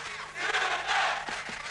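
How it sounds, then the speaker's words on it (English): Boxing crowd at a Gurkan Ozkan versus Sam Soliman fight, with a large Turkish community roaring and chanting for Ozkan; a dense, sustained wall of voices, loud and swelling, with rhythmic chant bursts near the end. "The crowd screaming Gurkan, and a big Turkish community here backing up their fighter, Gurkan Ozkan."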